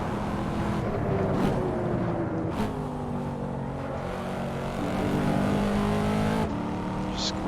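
Corvette C7 racing in Assetto Corsa, its engine droning steadily with rising, falling rev tones and gear changes on corner exit, loud and continuous throughout.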